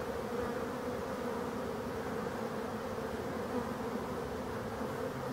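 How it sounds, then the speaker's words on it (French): Honey bees swarm around active beehives at an apiary in Brittany during the autumn ivy honey flow, a steady dense hum that holds at the same level throughout with no talk. "on peut voir que les ruches sont actives"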